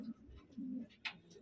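Pigeons give soft, low cooing calls, faint and close together, over quiet background noise.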